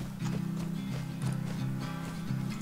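A horse gallops in the survival video game Rust, with loud, close hoofbeats in a quick repeating rhythm over a low droning tone, with no talk.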